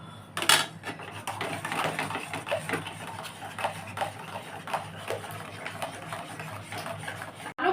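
A spoon stirs agar agar powder into mango milk in a pot, giving repeated light scraping and clinking knocks against the metal in an uneven rhythm, close and moderately quiet.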